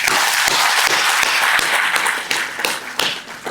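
A crowd applauds at a public event with a Bollywood actress from Bihar: loud, dense clapping with sharp individual claps standing out, thinning slightly toward the end.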